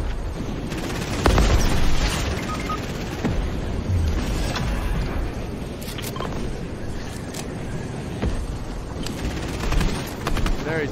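Video game combat with rockets and gunfire, a dense run of booms, bursts and sharp shots layered over continuous rumble, loud and busy throughout, with players talking now and then.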